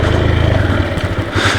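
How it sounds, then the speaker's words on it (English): A 2007 Honda FTR 223 motorcycle slowing under its rear brake, the close engine thrumming steadily and then dropping to a rougher, lumpier idle near the end. "And we do a rear brake test here now as well."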